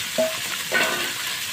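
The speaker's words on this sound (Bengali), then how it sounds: "এখন আমি মাছ দিয়ে দিচ্ছি এই দেখুন মাছের উপর দিয়ে আমি কাঁচা লঙ্কা দিয়ে দিচ্ছি" Fish with green chilies frying in hot oil, a brief close sizzle with a couple of light clinks from stirring, no voices.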